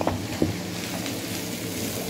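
Green chillies dropped into a hot frying pan sizzle with a steady, close hiss of frying oil, with a couple of soft clinks at the start.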